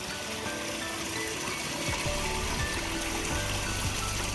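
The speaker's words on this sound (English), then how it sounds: "And now I'm just gonna put this through in the waterfall and over the edge of the pond." Water runs steadily through a koi pond waterfall and spills over the pond edge, a constant close trickling rush with a few faint mechanical clicks.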